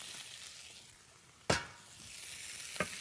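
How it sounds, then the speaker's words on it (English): Steamed Brussels sprouts with garlic and red pepper flakes sizzle steadily in a pan, a soft continuous frying hiss with two sharp clatters of stirring partway through, no voices. "we're going to saute them for just a minute"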